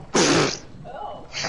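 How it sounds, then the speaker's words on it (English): A sudden, loud sneeze bursts out with a strange, distorted quality, a short explosive blast followed by a faint, wavering tail, heard during an online arena game session. "I sneezed, but then it came out"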